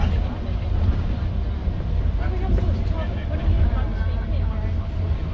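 The engine of a former Stagecoach Dennis Trident Euro 2 bus runs with a steady low rumble and a droning vibration from inside, with people talking faintly over it.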